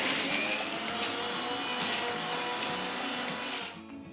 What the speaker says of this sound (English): Grind it to a nice smooth paste.